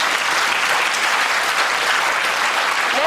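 A studio audience at a TV comedy show claps loudly and evenly, a thick continuous burst of applause with no other sounds over it.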